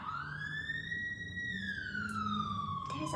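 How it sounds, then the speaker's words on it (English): A police siren wails, rising and falling steadily over low city traffic rumble, loud and fairly near, with no one speaking. "There's a lot of sirens."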